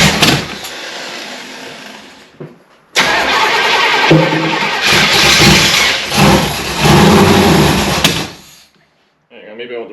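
The engine of a 1966 Chevrolet Biscayne, recently through a cam break-in and running noisily, cranks with a brief churn, stops, then is cranked again and catches into a loud rough run before cutting off near the end; people talk nearby.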